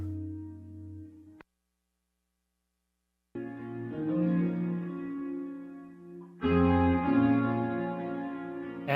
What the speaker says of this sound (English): spring, a tape echo,